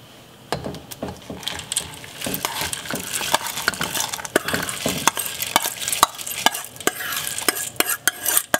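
A spoon scrapes and knocks against a cooking pot as brown lentils are stirred in with onions, a series of sharp clacks and scrapes over a faint sizzle, no talking.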